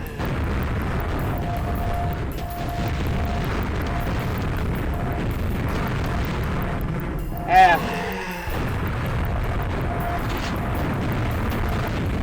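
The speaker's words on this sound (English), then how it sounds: "let's get quad damage so we can cause damage with a rocket launcher" Rocket launcher explosions with quad damage in Quake 1.01 on level E1M6, The Door to Chthon: a loud continuous wash of game noise with one heavier boom partway through, no talking.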